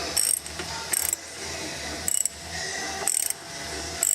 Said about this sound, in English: use your ratchet, and get your 13 millimeter again, and of course, going up is to tighten.